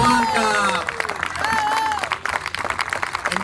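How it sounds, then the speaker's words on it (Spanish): An outdoor crowd at a public plaza event applauds and cheers for Chocolate, with clapping building into a dense wash while a voice carries over it and a few scattered claps trail off at the end. "Un orgullo y un aplauso grande para Chocolate"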